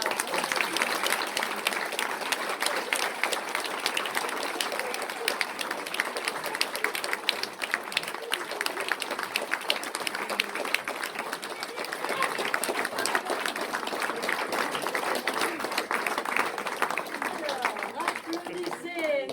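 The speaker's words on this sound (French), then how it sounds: "applaudissez les membres de la pirouette" A crowd applauds a French amateur dance troupe at a show, with steady dense clapping holding for the whole stretch and a few voices mixed in.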